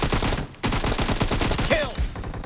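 Rapid gunfire in a team-based shooter video game, dense bursts of shots that run nearly continuously through the moment, loud and close, with a brief pause early on and scattered game effects layered over the shooting.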